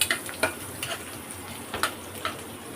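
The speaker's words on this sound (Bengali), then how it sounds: "এখানে চলতেছে বেগুন ভর্তার জন্য বেগুন ভাজি" Eggplant slices frying in a pan for mashed eggplant, a steady close sizzle with scattered clinks and scrapes of a utensil against the pan.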